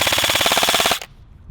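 A Lancer Tactical Warlord M4 airsoft rifle on an 11.1 LiPo battery with a stock mid-cap magazine fires one loud, fast full-auto burst of roughly a second of rapid, even clicks, then stops abruptly.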